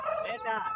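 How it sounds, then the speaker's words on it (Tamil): A rooster crows at a busy rural livestock market, a short strained close-up call with a wavering pitch, while market voices carry faintly in the background. "இந்த சேவல் உங்களுதா?"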